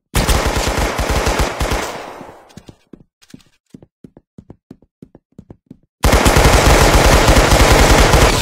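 Gunfire from the Roblox game Arsenal comes as dense rapid automatic bursts, then a string of single evenly spaced loud shots, then another sustained full burst, all loud and close.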